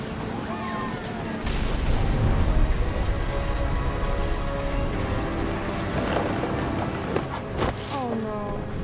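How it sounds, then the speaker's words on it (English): Rain and rolling thunder fill a stormy night in the game What Remains of Edith Finch, a steady downpour wash with deep rumbles, while a voice narrates over it. "The thunder sounded much too close and full of angry power."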